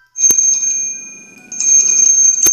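A bright bell rings sharply twice, near and loud, each strike followed by a sustained metallic ringing that fades slightly before the next.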